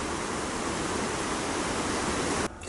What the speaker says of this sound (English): Below that one main fall, there's several small falls along this small creek.